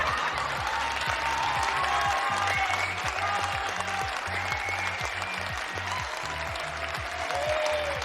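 Steady applause from a crowd, dense and continuous clapping at an even level throughout, with no voices standing out over it.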